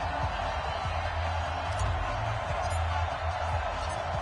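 A sold-out Cincinnati Bengals stadium crowd in a Madden football game, a steady, distant roar of cheering holding at an even level throughout.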